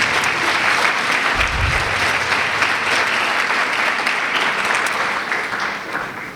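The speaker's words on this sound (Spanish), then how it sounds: "Lo recibimos a Padre Carlos con un fuerte aplauso." Audience applause welcomes a priest taking the floor at a historical and religious seminar, sustained steady clapping that fills the whole stretch before he begins to speak.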